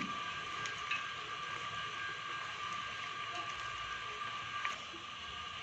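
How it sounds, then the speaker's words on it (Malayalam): An electric motor runs steadily, a continuous faint whirring hum with a high whine, heard while a raw mango and carrot salad is being made. "മോട്ടർ ഓണാക്കിയതിൻ്റെ അരപ്പാണ് കേട്ടോ വീഡിയോയിൽ കേൾക്കുന്നത്"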